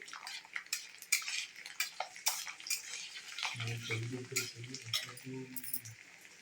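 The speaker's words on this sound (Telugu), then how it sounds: "నూనె కాగాక వెల్లుల్లిపాయలు వేసేసాను" Garlic drops into hot oil and starts frying, giving a soft sizzle that continues under light clinks of utensils, fairly quiet and close.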